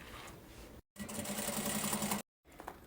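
A sewing machine stitches fabric for a child's 3D backpack in two short bursts of fast, even whirring, each stopping abruptly with a brief silence between, close and moderately loud.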